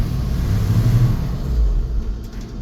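A 1985 Ford F700 dump truck idles with a deep, steady low rumble as the clutch is let out in first gear, the engine note sagging and lugging without any clear pull away.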